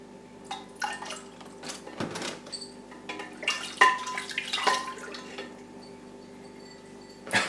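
Water being poured into a nutrient solution to dilute it, faint intermittent splashing and trickling with small clinks of a container, quiet and close, in short irregular bursts.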